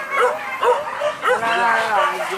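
A dog on a rice-field hunting outing barks and yips in several loud, close bursts, with people talking over it.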